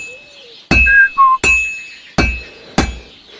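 A hammer strikes metal on an anvil at a blacksmith's forge in Kingdom Come Deliverance II, four sharp ringing clanks spaced unevenly, with brief whistling tones between the first two blows.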